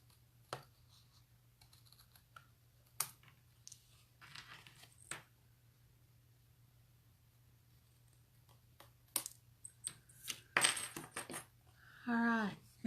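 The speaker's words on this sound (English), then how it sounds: "come in with your snips and just snip off that excess across the bottom of your card" Snips cut excess cardstock from the bottom of a die-cut card in a quiet room. Several short, sharp clips are scattered across the clip, followed by paper rustling.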